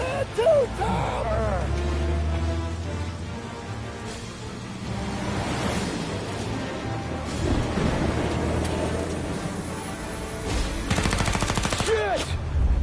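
A gunfire shootout in the Mafia video game plays out as bursts of game gunshots and rattling automatic fire, with shouted voices mixed in over the fighting.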